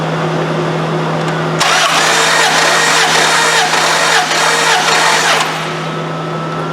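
A Dodge 4.7 engine cranks loudly at wide open throttle for a compression test, a rhythmic churning starter run of about four seconds that starts abruptly and then cuts out, with a low hum before and after.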